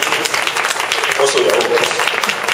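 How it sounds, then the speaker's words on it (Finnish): A brief patter of audience applause at the 2011 public launch event of Helsinki Region Infoshare, with a voice talking over the clapping. "Pienet aplodit asialla selvästi."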